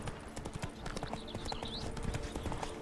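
Horse hooves clip-clopping at a gallop in the fantasy role-playing game Witcher 3, a steady rapid rhythm running throughout, close and moderately loud, with a brief whinny-like touch and faint game ambience.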